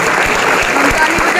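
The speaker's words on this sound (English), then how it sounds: "Please give a big round of applause for him." An audience at a school mock parliament session breaks into loud, continuous applause, a close, dense patter of many hands that fills the short stretch with no clear talk.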